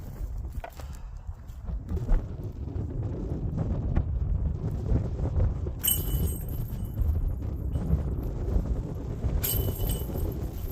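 Wind blows across an outdoor disc golf course in Lakewood, Colorado, a constant low rumble of gusts buffeting the microphone for the whole stretch, with no talk over it.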